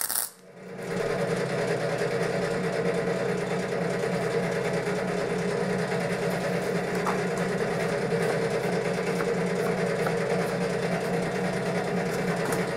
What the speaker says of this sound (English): Gonna weld it now.